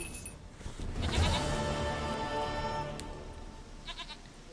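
A goat in The Witcher 3 gives a loud, wavering bleat that swells and then fades over a few seconds, heard close and alone, with a brief clatter near the end.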